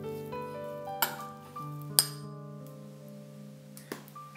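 A metal spoon clinks against a bowl while pork seasoning of salt, pepper and paprika is mixed, giving three or four sharp ringing taps with lingering tones in a quiet kitchen.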